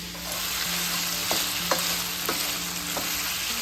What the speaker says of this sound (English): Just want to slightly cook it, get a little brown.